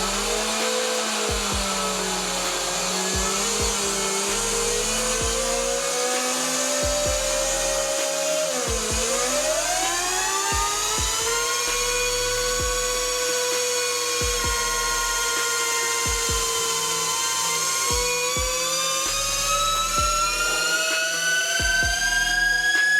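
A 72V Burromax XRB electric motorbike runs hard on a dyno, its loud electric motor whine sweeping up and down in pitch with a brief dip midway, over steady low rhythmic pulses. The whine stays close and continuous, with no voices.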